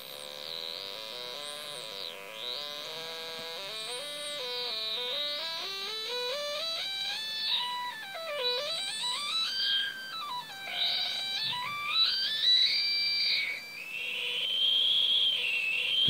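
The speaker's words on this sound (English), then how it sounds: "So why not hit me with some bent tones?" An Arduino tone generator plays bent electronic tones, a bright buzzy square-wave pitch that steps, then sweeps and swoops up and down in long glides, steady and moderately loud over a faint hum.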